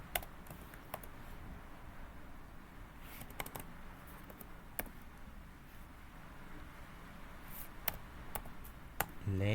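Pine Script code being typed on a computer keyboard, soft irregular key clicks in quick bunches with short pauses, faint and close against a quiet room hiss.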